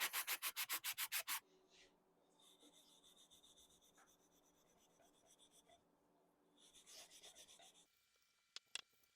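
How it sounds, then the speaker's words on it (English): Rhythmic back-and-forth scraping of sandpaper by hand on a wooden gift box, quick strokes at first, then softer rubbing passes and a few light knocks. "Do the final sanding now."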